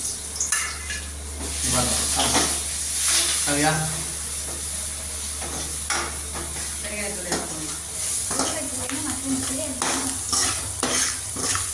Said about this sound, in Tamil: பூண்டு அப்புறம் மிளகு சீரகம் அரைச்சதை போட்டுக்கலாம். போட்டிக்கிட்டு கிண்டிக்கலாம்.